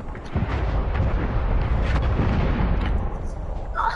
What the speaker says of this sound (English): Hostile artillery targeting active. Net call. Incoming artillery.